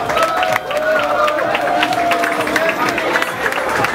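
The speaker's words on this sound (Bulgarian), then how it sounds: "Аплодисменти за него!" Applause and cheering from a crowd at a university Christmas party for a student award winner, steady clapping with scattered sharp claps, moderately loud, under an announcer's voice.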